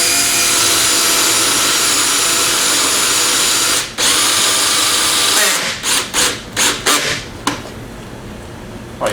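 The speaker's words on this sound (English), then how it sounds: "I'm just going to do a 1/2-inch hole. Real simple, using a brad point bit so it doesn't walk on me." A power drill fitted with a brad point bit bores a 1/2-inch hole in wood: a loud, steady high-pitched whine for several seconds, then a run of short bursts as the trigger is pulsed.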